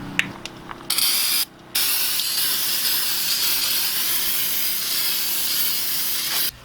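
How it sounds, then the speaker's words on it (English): Brake cleaner sprayed onto a Dana 30 differential in long loud aerosol hisses, broken by a short pause, with a few clicks and rattles from the can at the start. "Now we're going to hit it with a little brake cleaner to clean it off here."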